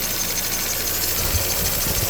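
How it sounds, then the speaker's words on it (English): A classic Mini barn find idles steadily up close, its engine hum continuous throughout, with a slight belt squeal mixed into the running noise. "So now it's idling. There is some slight belt squeal going on down here."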